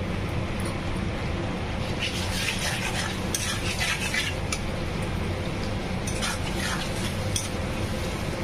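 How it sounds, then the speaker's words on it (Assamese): Tomatoes with masala and a little added water frying in a pan for small fish jhal, a continuous close sizzle with spoon scraping and clinks against the pan throughout, no talk. "মছলাখিনিৰ লগত অকণ মই বিলাহীখিনি ফ্ৰাই হ'ব দিম ধুনীয়াকৈ।"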